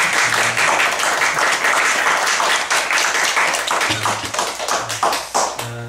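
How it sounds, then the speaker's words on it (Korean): A church congregation claps to welcome an elderly guest, a steady dense round of applause lasting several seconds, with occasional low tones underneath. "우리 영수 할머니 모셨는데 박수로 좀 환영하겠습니다"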